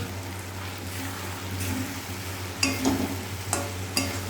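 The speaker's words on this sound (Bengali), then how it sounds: "নাড়াচাড়া দিয়ে নেব।" Fried chilli fish being stirred in a pan, a soft continuous sizzle with a few scraping clacks of the spatula against the pan, fairly quiet.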